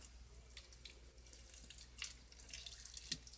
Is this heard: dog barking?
no